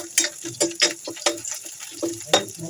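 Onions browning in a pan with a steady fry, broken by repeated clicking stirs of a spoon against the pan at an irregular, close rhythm.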